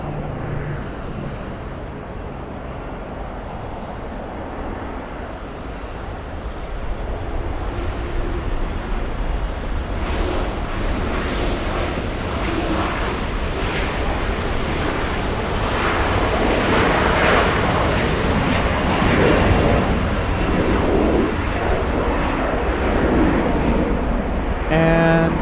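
An EgyptAir airliner on approach to LAX, its jet engines a steady broadband roar that swells louder over the last half as it draws near, with a voice talking under the noise.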